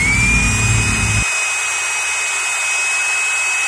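A loud Bosch GBH 2-20 DRE rotary hammer drill whirs steadily at close range, its low motor rumble dropping away partway through while a high whine carries on.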